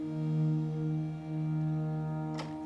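A low, soft synth pad sustains a steady harmonic chord with a gentle swell, playing alone, ending with a brief bright transient.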